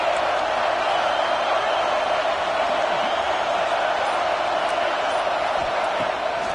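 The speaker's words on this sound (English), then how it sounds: "Decibels rising as the crowd gets behind this defense on third down." A huge football stadium crowd at Ohio State vs Penn State roars steadily on a third down, a dense, unbroken wall of noise with no pauses.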